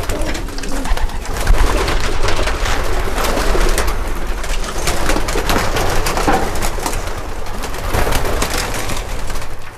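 Racing pigeons coo in a sprint and middle-distance loft, a dense, loud, continuous chorus of overlapping calls heard from close by with some rustling.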